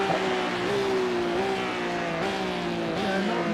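Porsche Cup race car in a sim racing game at COTA, engine droning loud and steady with shifting harmonic pitch as it slows into a braking zone, no voices over it.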